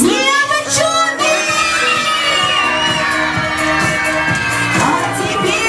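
A crowd of girls at a children's birthday party shouts and cheers together in a loud, sustained, high-pitched roar that fills the room.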